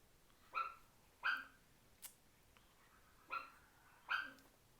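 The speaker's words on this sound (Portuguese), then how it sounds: "Ó, cachorro. Sempre tem, né?" A dog barks five times at irregular intervals, sharp single barks from some distance, fairly faint against a quiet background.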